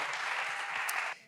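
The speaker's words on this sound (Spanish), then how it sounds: "usted le da un fuerte aplauso a Jesús en esta noche." Applause from a church congregation during an evening worship service, a dense steady clapping from many people that holds loudly for about a second before cutting off abruptly.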